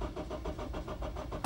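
A Honda car engine cranks in a steady rapid rhythmic churn after its throttle body has been cleaned, with a sharp louder burst at the end as it tries to catch. The engine is slightly flooded.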